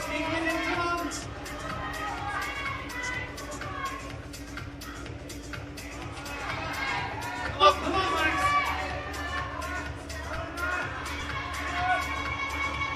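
A crowd cheers and chatters throughout a climbing run at the British Boulder Championships semi-finals, held at the Depot climbing centre. The steady hubbub swells briefly near the middle, and a commentator talks over it.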